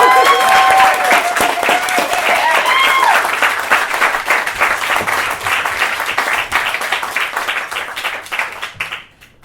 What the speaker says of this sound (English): Maybe we could clap.